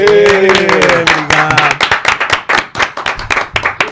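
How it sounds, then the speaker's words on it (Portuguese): A few podcast hosts clap their hands for a first episode, close and loud, starting under overlapping talk and laughter and then settling into distinct, slightly uneven claps from a small group. "Vamos bater palmas aí, né?"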